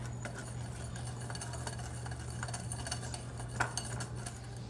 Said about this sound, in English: we're gonna put in a teaspoon of cinnamon and we're gonna whisk that together